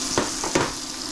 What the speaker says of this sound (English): Lemons grilled in butter are pretty delicious.